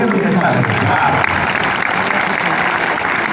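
Audience clapping at a Hindi poetry gathering (kavi sammelan) in Delhi, a dense, steady wash of many hands continuing throughout, loud and near, with a voice faintly mixed in.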